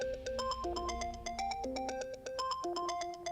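A mobile phone ringtone plays a bright, repeating electronic melody of short tones, close and clear, without any talk over it.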